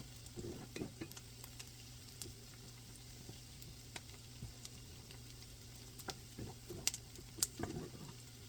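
Onions for ham and bean soup sizzle steadily in a pot after salt goes in, a faint low crackle with scattered stirring clicks and taps, and no talking.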